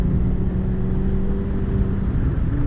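A race car on Sonoma Raceway drones steadily from inside the cockpit, engine note holding loud and even before shifting slightly lower near the end.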